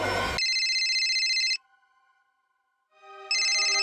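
A phone ringtone for a call from a private number, playing as a loud electronic melodic tone in two bursts separated by a short quieter gap with a faint sustained tone, with no talking.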